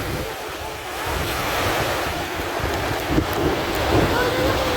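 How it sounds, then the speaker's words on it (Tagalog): Sea surf washing onto a beach near sunset, a steady broadband wash with gusty wind buffeting the microphone and a few louder wave surges toward the end; distant voices are faintly audible. "Yung dagat dito sa amin mga parang ganda."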